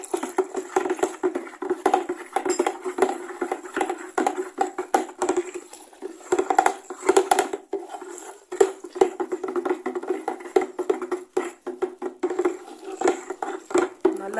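Salt is stirred into a soap oil mixture for vehicle washing, making a soft, continuous run of quick scraping and clinking taps against the container. The sound is faint and unbroken, with no talking.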